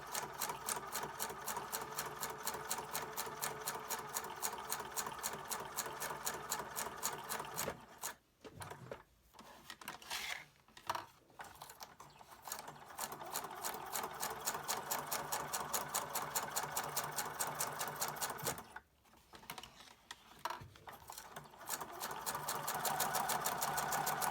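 A sewing machine stitches junk journal pages in fast, even rapid-fire bursts, pausing briefly twice before resuming its steady mechanical clatter; no talking.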